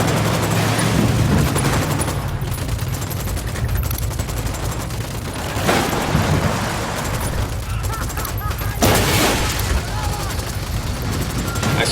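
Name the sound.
gunfire in video game Ghost Recon Wildlands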